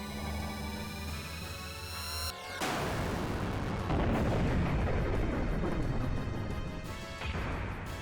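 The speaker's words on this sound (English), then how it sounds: "We're gonna fire the main gun right off the bat" Main gun firing in the Xenogears role-playing game: a tonal charge-up whine gives way to a loud sustained crashing blast that rumbles for several seconds, with a second burst near the end and no voices.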